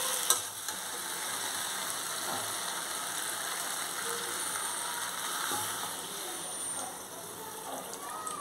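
Vegetables for a prawn and vegetable curry sizzle and bubble steadily in a pan after water is poured in, a fairly even hiss with faint stirring scrapes throughout.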